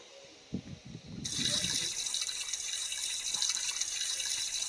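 Hands washed under a running tap: a few soft clatters, then a steady, moderately loud stream of water splashes into a sink for the rest of the time, with no voices.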